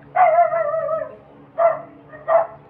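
A small dog yips and barks in short bursts: one longer whiny bark, then two quick sharp yaps, fairly close with a quiet background.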